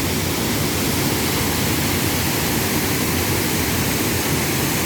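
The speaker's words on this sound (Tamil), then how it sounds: "ரொம்ப அதிகமாக தண்ணி போயிட்டு இருக்கு." Heavy monsoon flow at Thirparappu waterfall roars as a dense, steady wash of water noise, loud and unbroken from start to finish with no voices.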